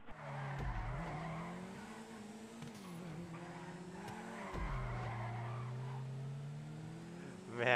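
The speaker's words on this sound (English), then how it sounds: "Pulling some sick ass drifts." Car drifting in the video game GTA 5, with long wavering tire squeals sliding up and down in pitch over a steady engine drone, punctuated by a couple of short thumps and a louder burst near the end.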